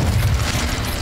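A Confringo explosion spell in the video game Hogwarts Legacy lands as a loud, deep boom, one short rumbling blast that fills the whole moment.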